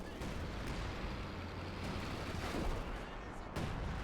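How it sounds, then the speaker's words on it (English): Artillery in a multiplayer strategy game battle: repeated booming shell impacts and gunfire over a continuous rumble, moderately loud. "Artillery."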